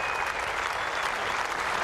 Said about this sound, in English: very generous applause from a crowd that really is appreciating the efforts of these big fellas